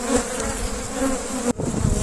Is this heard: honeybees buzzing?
yes